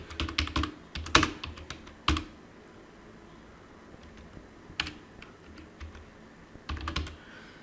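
A computer keyboard is typed on in quick clattering bursts as a color palette search is entered in a browser, with quiet gaps between a flurry at the start and short runs later.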